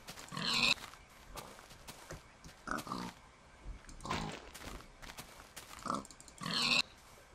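Pigs on a pig farm in a video game grunt and oink repeatedly at irregular intervals, with a couple of louder squeals, all fairly close and heard alone without any talk.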